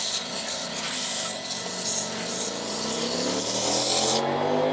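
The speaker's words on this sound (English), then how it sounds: "I'm sanding this way, so it leaves a lot of little ridges here" Sandpaper worked along the grain of a wooden board makes a loud, continuous, close-up rasping hiss that holds steady for several seconds before cutting off abruptly.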